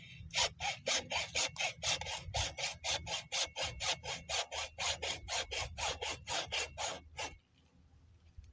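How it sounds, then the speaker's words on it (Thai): Hand saw cutting through a tamarind tree branch in quick, even back-and-forth strokes, close and loud, then stopping abruptly. "ใส่เลื่อยหน่อยพี่น้องเลื่อย"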